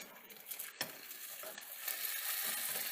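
A Monte Cristo sandwich frying in browning butter and oil in a pan, a steady close sizzle with a few faint scrapes and light clinks.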